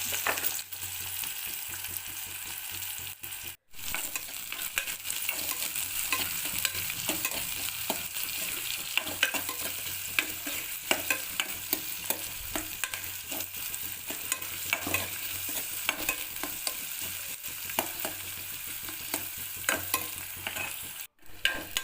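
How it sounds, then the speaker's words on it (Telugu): Sliced onions fry in oil inside a pressure cooker for a chikkudkaya curry, giving a steady close sizzle broken by frequent scraping clinks of a stirring spoon against the metal. "తర్వాత స్లైస్డ్ ఆనియన్స్ వేసి ఫ్రై చేసుకోవాలి."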